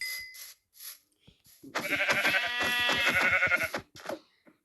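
A harmonic, wavering Minecraft sheep bleat rises for about two seconds after a few short clicks and faint sounds, in a synthetic-sounding game style.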